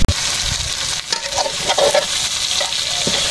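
Green chillies fry in a pan with a loud, steady sizzle, while a utensil stirs and scrapes through them in uneven strokes close by, without any talk.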